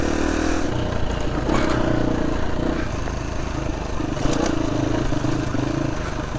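An off-road motorcycle ridden along a trail during rider training, its engine droning loudly and steadily with slight revving and clattering, close to the microphone throughout.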